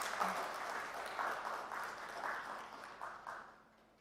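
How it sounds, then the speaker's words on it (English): An audience at a circular economy launch event in Nairobi claps steadily at a modest distance, the applause swelling in waves before fading out. "A better round of applause, ladies and gentlemen."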